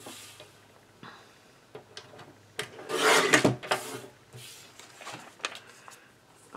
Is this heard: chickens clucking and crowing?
no